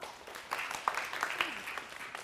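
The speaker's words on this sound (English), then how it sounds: "Beautiful round of applause for her." A conference audience applauds briefly, a dense patter of clapping with voices and cheers mixed in.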